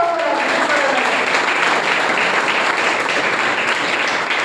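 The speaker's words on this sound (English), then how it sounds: "let's have a huge round of applause for her" Steady, dense applause from a crowd, sustained at an even level throughout.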